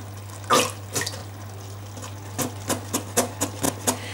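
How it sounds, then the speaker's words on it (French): About 100 ml of water goes into tomato sauce made from a 500 g carton of tomato purée in a home kitchen. Separate splashy gurgles and drips come in an irregular rhythm, close by, over a low steady hum. "Je vais rajouter un petit peu d'eau, environ 100 ml."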